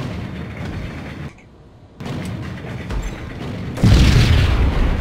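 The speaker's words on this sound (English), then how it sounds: "What an explosion!" Booming explosions in the shooter game Max Payne, a burst of rumbling blasts, a brief lull, then heavier roaring detonations toward the end.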